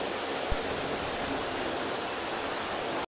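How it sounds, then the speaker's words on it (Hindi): The Necklace Waterfall at Bhandardara, Maharashtra, heard as a constant broad rushing roar of falling water, steady and fairly close with no voices. "बहुत ही प्यारा वाटरफॉल है"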